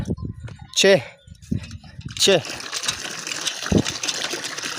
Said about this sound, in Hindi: बाकी जो बची है ना उन सब को मैं यहाँ नलके से पानी पिला रहा हूँ